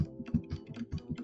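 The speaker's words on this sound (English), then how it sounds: "this is how things sound when I'm typing and I'm talking at the same time" Typing on a gaming laptop keyboard, the MSI GT77 Titan, with a quick run of close, distinct key clacks in an uneven rhythm over faint background hum.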